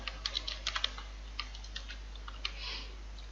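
Keys on a computer keyboard are tapped in quick clusters, then in sparser single clicks, fairly faint against a steady low hum, with no voices.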